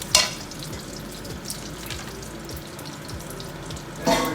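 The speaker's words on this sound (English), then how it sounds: "we're putting in the Chinese sausage there. We're gonna render that down" Chinese sausage sizzling and rendering in a pan over medium-high heat, a steady crackling fry that runs throughout, with a brief louder burst at the start and another near the end.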